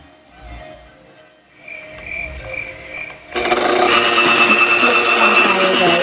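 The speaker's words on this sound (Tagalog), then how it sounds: "Pwede kayong gumamit ng electric mixer or kung wala naman, pwedeng mano-mano." An electric mixer whirs on at a steady buzzing drone as it beats a cookies and cream ice cream base, close and fairly loud, after a quieter stretch of faint kitchen sounds.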